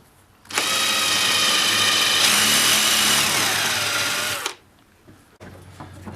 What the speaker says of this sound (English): And I'm using a small drill bit.